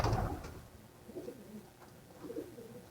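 Pigeons coo softly inside a pigeon coop, low throaty rolling calls repeating every second or so, fairly faint, after a brief rustle at the start.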